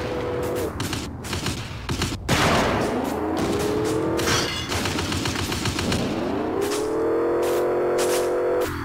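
Automatic gunfire from vehicles in the vehicular combat video game Chaos on Wheels, loud and continuous bursts over roaring engines and tire noise, with no talking.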